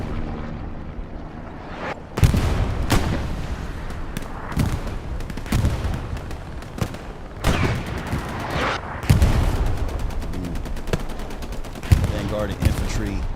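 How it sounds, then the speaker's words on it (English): Gunfire and rocket blasts in the World War II shooter Hell Let Loose, a competitive match on Purple Heart Lane, with rockets passing over a tank hull; loud repeated shots and bursts over a constant battlefield din, with a voice talking over it. "2 rockets sailing over the top of the hull."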